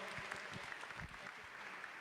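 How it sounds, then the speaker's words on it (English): Audience applause at an education open day, continuous dense clapping from a sizeable crowd, fairly soft and even throughout. "Please give him a round of applause."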